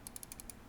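A rapid run of about six crisp, close clicks from the right button of a Roccat Kain 200 Aimo mouse, quiet and evenly spaced with nothing else around them.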